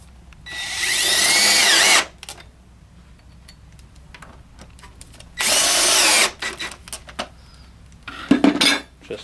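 A power drill drives screws into a desk during assembly in two loud bursts of whirring with rising pitch, separated by quiet gaps filled with scattered clicks and handling noises, and a final short rattle of parts.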